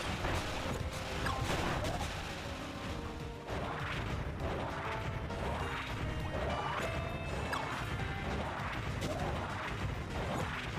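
Repeated heavy smashing impacts in the Kirby Planet Robobot video game, a steady rhythm of loud crashes and thwacks roughly every second, continuous and dense with no talking.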